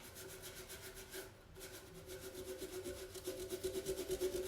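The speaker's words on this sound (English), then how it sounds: "If you want to have it pretty clean, you just rub it back a bit more." Chalk mineral paint being rubbed back on a tin surface, a steady rhythmic scraping that grows louder and quicker toward the end, close up with no talking.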